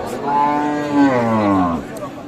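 A single long, deep moo from a Holstein Friesian dairy cow at a livestock market, loud and close, rising and then falling over about two seconds.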